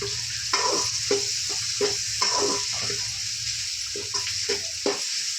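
Onions and tomatoes frying in a pan, a continuous close sizzle broken by repeated rhythmic scrapes and stirs of the spoon, with no talking.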